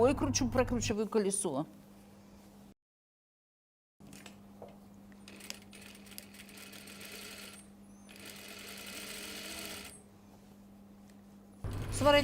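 A sewing machine stitches the button stand of a cashmere jacket in short bursts of fast, even mechanical whirring, broken by a brief silence, with a voice heard briefly at the start and end.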